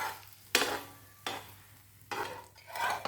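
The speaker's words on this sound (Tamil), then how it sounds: "இப்போ இந்த ப்ரெட்டை அப்படியே இது மேலே அப்படியே திருப்பி போட்டுருங்க" Bread omelette in a hot pan, flipped with a spatula: three sharp scraping bursts of turning and stirring over a soft, low frying hiss.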